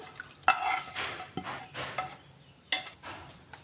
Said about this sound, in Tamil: ஸ்டவ் ஆன் பண்ணி நான் சிம்மில் தான் வச்சு இப்போ கிண்டிகிட்ருக்கேன்